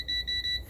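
A sharp, high-pitched electronic beep from an air fryer sounds in quick pulses, close and fairly loud, with nothing else around it.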